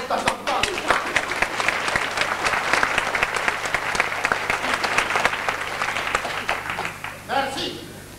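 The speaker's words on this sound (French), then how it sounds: "Tu peux applaudir les petites conneries comme ça de temps en temps." An audience applauds during a staged operetta performance, a dense, even roll of clapping through most of the stretch that fades near the end, followed by a brief burst of sound.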